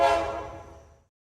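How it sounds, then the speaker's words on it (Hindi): A train whistle sounds once, a loud short blast that fades away over about a second, heard alone. "फिर अचानक एक ट्रेन की सीटी सुनाई दी।"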